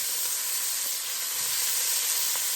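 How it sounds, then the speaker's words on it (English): Turkey necks browning in a hot pot sizzle with a steady, even hiss that holds at moderate volume throughout, with no talking. "brown up our turkey necks first"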